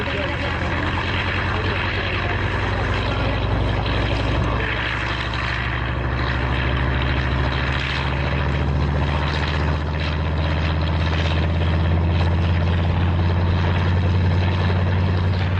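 A loud, continuous roar of a helicopter's engine and rotor, close by and steady throughout, with voices faintly buried under the noise.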